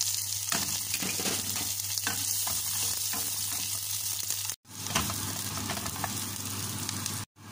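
Onion frying in oil in a pan gives a loud, close, continuous sizzle with scattered stirring taps, cut off by two brief drops into silence.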